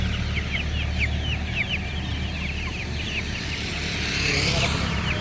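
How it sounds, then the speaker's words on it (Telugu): Young Giriraja chickens kept as home poultry cheep and cluck in a steady chorus of rapid, high peeps. Low traffic rumble sits underneath, and a voice speaks nearby. "ఈ కోడి పిల్ల గిరిరాజా కోడి."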